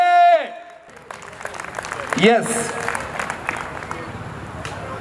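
Loud audience applause at a Punjabi community gathering in Surat. It swells up right after a short spoken word and continues as dense, noisy crowd clapping mixed with some voices.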